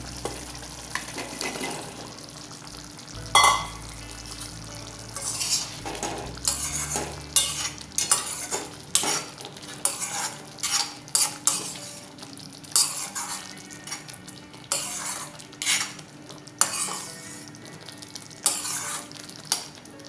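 Baby onions for a sabji are stirred in a frying pan, a low sizzle under repeated metal spatula clanks and scrapes against the pan in uneven bursts, close and clear with no talk.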